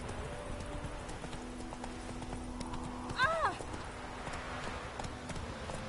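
Hooves of the horse Roach in The Witcher 3 beat a steady galloping clip-clop under continuous game ambience, with a brief whinny partway through.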